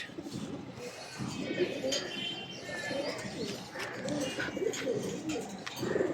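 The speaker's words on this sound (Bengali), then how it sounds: "এক পেয়ার অরেঞ্জ বাহমা একেবারে ডাউন ফেজের" A pair of orange Bahama pigeons cooing nearby, soft repeated throaty coos with a few faint chirps over a quiet background, some low voice murmur under the calls.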